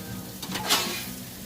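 Steak and lobster sizzle on a Blackstone griddle outdoors, a steady low crackle with a brief brighter burst of hiss midway, like food shifted on the hot surface.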